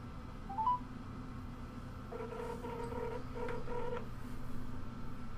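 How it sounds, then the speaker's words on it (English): A phone number being dialed, a quick run of beeping keypad tones in the middle, faint and close over a low background hum. "let me see if I can get my boy Paulie Malignaggi on the phone"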